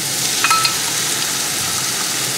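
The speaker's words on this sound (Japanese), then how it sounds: "全体をね、もうざっくりと炒めていきます" Maitake mushrooms and egg stir-frying in oil in a pan, a loud close continuous sizzle with a few faint clicks of the utensil early on and no talking.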